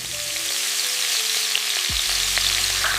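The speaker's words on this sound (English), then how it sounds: "Ready for the sizzle?" Chicken pieces hitting hot coconut oil in a pan, a steady loud crackling sizzle that swells as the meat lands partway through and keeps frying evenly, with no talk.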